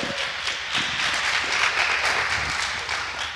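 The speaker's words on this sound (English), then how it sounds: "So give her a round of applause." Audience applause for a speaker at a tech talk, a dense, even patter of many hands clapping throughout, moderately loud and slightly distant in a room.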